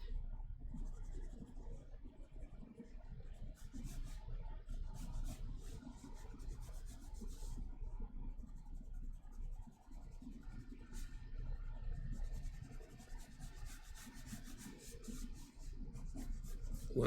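Soft, continuous scratchy rubbing of a pencil on paper, in short strokes over a low background rumble, faint and close.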